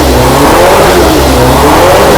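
A Lotus 43 Formula One car with an H16 engine roars loudly and steadily, revving hard throughout at close range with no voices.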